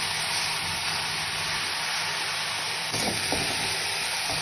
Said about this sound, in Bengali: লবণ দিয়ে এটা ভালো করে নেড়ে নেব।